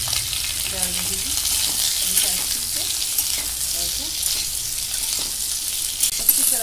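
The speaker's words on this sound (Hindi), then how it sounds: "फिर हम पनीर ऐड कर रहे हैं, इसमें सारा पनीर जो है इसमें डाल रहे हैं।" Paneer with curry leaves frying in a hot pan gives a continuous bright sizzle, with scattered stirring scrapes and clinks running under it at a moderate level.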